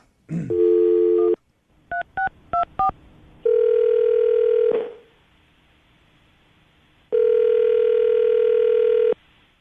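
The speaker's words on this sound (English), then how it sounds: "I'm going to dial the phone number" A phone line hums with a dial tone, then quick touch-tone beeps are keyed in, followed by long ringback tones with a pause between.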